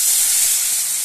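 Water poured onto hot turmeric and chili powder frying in a pan, a loud, close burst of steamy hissing that holds steady for about a second.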